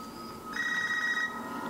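A classic home telephone rings in the Scream trailer, one brief electronic ring burst with a steady tone, fairly faint under soft background sound.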